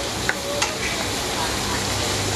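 Pakbet vegetables sizzle loudly in a pan while being mixed, a dense steady frying hiss with two quick scraping knocks of a utensil early on, close up and with no talking.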